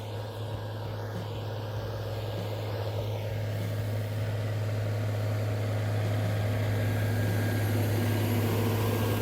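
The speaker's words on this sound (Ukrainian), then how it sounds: "так тракторець ходить." John Deere 6155M tractor running in a field during soil preparation for soybean sowing, a steady low engine drone with a strong tonal hum, continuous and moderately distant, slowly building in loudness with no speech.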